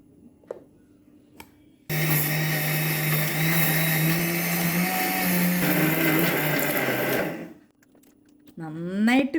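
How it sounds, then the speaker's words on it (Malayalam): A mixer grinder powders sugar with cardamom pods, a loud steady motor whine and grinding rattle running for about six seconds before cutting off, with faint voices before and after. "നമ്മൾക്ക് ആദ്യം തന്നെ പഞ്ചസാരയും ഏലക്കായും ഒന്ന് പൊടിച്ചെടുക്കാം."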